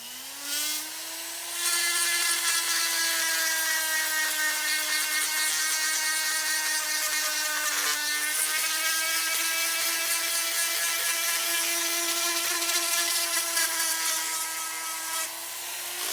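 A high, steady whine of a rotary sanding bit porting an aluminum LS1 cylinder head runs almost continuously, close and loud, with a brief dip in pitch midway.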